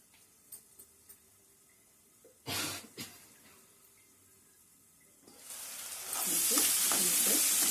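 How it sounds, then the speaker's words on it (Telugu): Onions for a country chicken curry start sizzling in a pan toward the end, a bright, steady frying hiss that rises after a few scattered clinks and clatters. "ఉల్లిపాయ చక్కగా వేగి ఉల్లిపాయ కూడా వేగింది"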